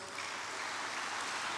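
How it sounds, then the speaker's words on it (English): Applause from a conference audience at a youth leaders' assembly, a dense steady wash of clapping that stays even and continuous through the short stretch, with no voices on top. "can we give another warm applause"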